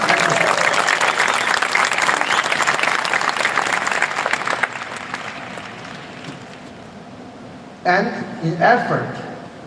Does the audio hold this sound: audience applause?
yes